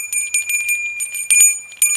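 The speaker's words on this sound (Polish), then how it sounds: "Dzwoneczek." A small hand bell, part of an everyday-carry travel kit, rings in a quick series of bright metallic dings with sustained high tones, close and fairly loud with no talking.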